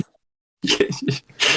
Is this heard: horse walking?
no